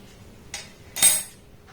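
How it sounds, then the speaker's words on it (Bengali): A fork cutting through coconut pitha dough, two brief soft scraping touches against a plate, close and quiet, with no talk. "এটা কাঁটা চামচ আমি নিয়ে নিয়েছি এটার মাধ্যমে এইভাবে একটু আমি কাট করে দেবো"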